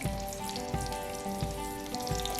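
Green chillies slit lengthwise sizzle and crackle in hot cooking oil in a kadai, a close, steady frying hiss with small popping bursts.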